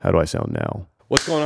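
Someone talks, pauses, then gives one sharp, loud hand clap before speaking again.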